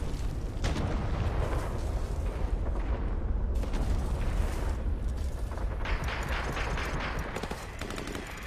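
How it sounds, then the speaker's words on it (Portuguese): A minigun fires in a video game, a dense, continuous roar of rapid gunfire that stays loud and unbroken for several seconds. "Barulho de tiro assim, isso aqui é massa."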